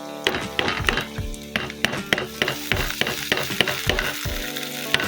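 Egg noodles sizzle loudly in a hot pan as oyster sauce is added while a utensil scrapes and stirs in repeated clanking strokes, close up, with no talking.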